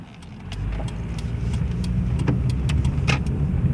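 Car engine idling on a Seattle street, a low steady rumble with faint intermittent clicks and rattles above it, close and continuous, with no voices.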